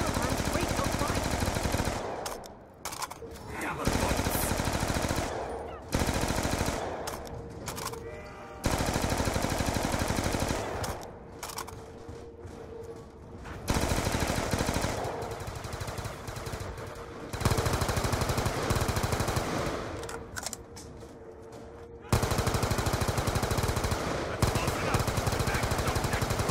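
Gunfire in Call of Duty Black Ops 2 Zombies on the Die Rise map, repeated bursts of automatic fire separated by brief pauses, moderately loud and continuing throughout with a broad noisy texture.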